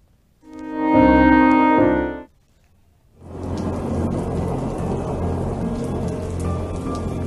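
Record-breaking heavy rain pours in a steady, dense hiss on surfaces, preceded by a short, loud tonal burst that fades out before the downpour rises and continues.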